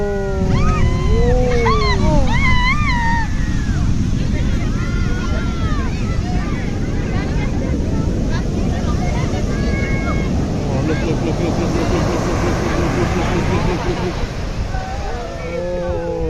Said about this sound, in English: the waves are humongous. The waves are huge.